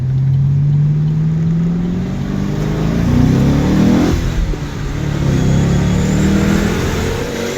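A fast car accelerates hard on the road. The engine note climbs loudly and steadily, drops briefly at a shift, then rises again in a continuous close roar.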